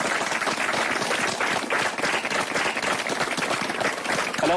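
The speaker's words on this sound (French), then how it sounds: "Ah ouais, ils applaudissent aussi, eux." Wedding guests applaud on a TV show, a dense, steady wash of clapping lasting throughout without a break.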